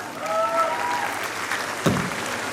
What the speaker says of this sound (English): Again, a huge round of applause.